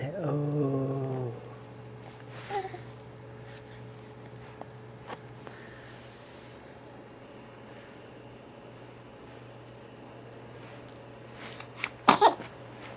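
A small child sneezes once, sharply and close by, near the end of an otherwise quiet stretch with a faint steady hum and a little chatter at the start.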